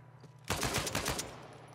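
A rapid burst of automatic gunfire from an online Team Deathmatch round of Uncharted 4 at the Auction House map, loud and close, beginning abruptly after a quiet moment and running about a second before easing off.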